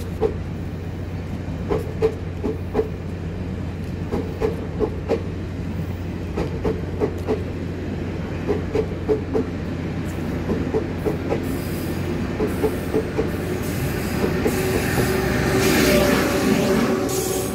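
A Taiwan Railways Tze-Chiang push-pull express passes close and loud, with an E1000-series electric locomotive at each end of twelve PP cars. A heavy steady rumble carries rhythmic clickety-clack from the wheels, and a squeal builds toward the end.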